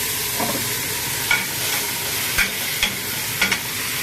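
Beef stew being stirred in a pot with softened beef added, giving an intermittent scraping and clinking of a spoon against the pot over a steady sizzling background, with occasional louder knocks.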